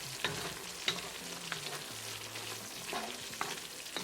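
Creamy Italian-style meatballs are stirred in a frying pan, a constant gentle sizzle broken by light spoon scrapes and clinks at a steady pace, close by, with no talking.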